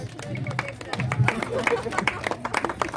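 An audience at a rangoli contest claps for prize winners, a brief burst of scattered applause under a voice speaking over a microphone.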